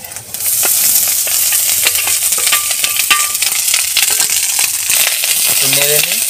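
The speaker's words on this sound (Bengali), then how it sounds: "তা ভাতটা ঢেলে দিচ্ছি।" Cooked rice is tipped into a hot pan of five fried spices, setting off a loud, steady sizzle with scraping and clinking of a utensil against the pan throughout, close and without talk.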